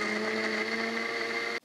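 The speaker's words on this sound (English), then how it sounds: "It's the Cuisinart Hurricane Juicer and Blender." A Cuisinart Hurricane juicer and blender runs at high speed with a steady, loud motor whine and a strong tonal hum, then cuts off abruptly at the end.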